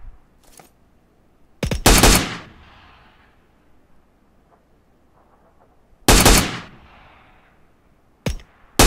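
Rifle gunfire in PUBG Mobile: a few loud, sharp shots with ringing metallic decay, spaced several seconds apart over quiet background, no talking.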